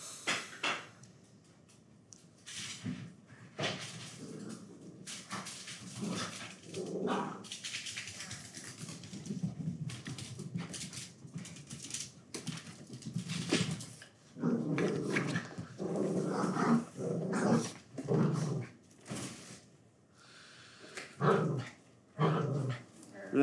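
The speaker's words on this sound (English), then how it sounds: "easy doggies" Dogs whimper and growl in restless bursts indoors, fairly close, with someone talking over them at intervals.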